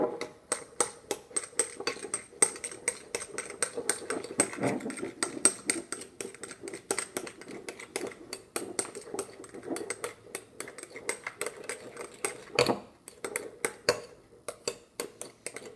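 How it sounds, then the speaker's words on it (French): Shaving foam being mixed by hand in a separate bowl for fluffy slime, giving a steady run of quick clinking, scraping utensil taps against the bowl, close and fairly faint, with a brief louder knock near the end. "Mais moi j'ai pris un autre bol à part parce qu'il faut la mélanger."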